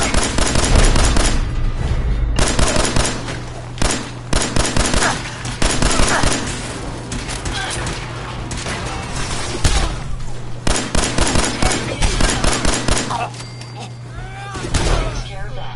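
Rapid gunfire bursts from weapons in Fallout 4, loud and close, with repeated volleys and brief pauses across the whole stretch, a steady low hum underneath.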